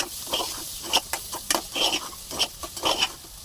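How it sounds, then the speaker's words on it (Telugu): Sliced onions with fresh curry leaves fry in a pan for an egg curry, giving a soft continuous sizzle broken by spatula stirs and scrapes and small crackling pops, close up with no talking. "ఇలా వేగుతున్న ఉల్లిపాయల్లో ఫ్రెష్గా కరివేపాకు వేసుకున్నాం."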